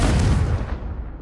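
A Confringo blasting spell explodes in the Hogwarts video game, one loud, rumbling boom with a dense low roar that fades over about a second.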